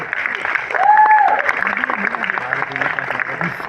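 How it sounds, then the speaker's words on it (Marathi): Audience applause at an award presentation with bouquets and certificates, steady clapping close by with a brief whistle-like tone and someone talking over it. "त्यांच्यासाठी जोरदार टाळ्या होऊ द्या."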